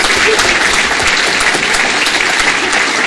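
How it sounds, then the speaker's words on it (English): Loud, dense applause fills a city council chamber for a girls' state championship team, with many hands clapping steadily and close, and no speech over it. "Let's have a round of applause for our state champions."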